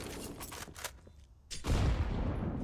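Gunfire in Counter-Strike: Global Offensive during a professional match on the Overpass map: a few quick muffled shots, a quieter pause, then a louder burst of gunfire and explosion noise.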